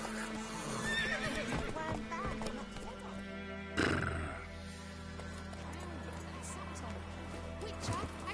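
Roach, a horse in The Witcher, neighs and gallops in game audio, with hoofbeats and whinnies over steady music and talking voices.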